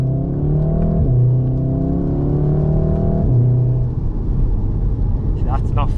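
A Volkswagen Golf R mk7 launching hard, its engine note rising through the revs then shifting and climbing again, loud inside the cabin, with people talking over it.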